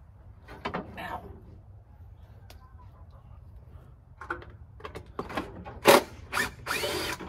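A power drill whirs in several short bursts, sparse at first and then more frequent and louder toward the end, with a voice briefly heard.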